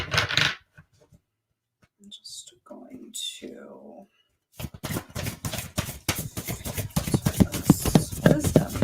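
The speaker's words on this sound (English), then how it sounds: "These cards are like so big, but they're kind of crazy to shuffle." Large oracle cards being shuffled by hand, a dense run of close, rapid crisp riffling and slapping after someone speaks briefly, with quiet handling sounds between.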